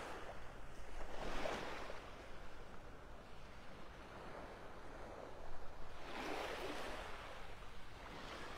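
Surf rolling in at Clam Pass, the south end of Pelican Bay Beach in North Naples, Florida: a soft, continuous wash of waves with two fuller swells, mixed with light wind rumble on the microphone, no talking.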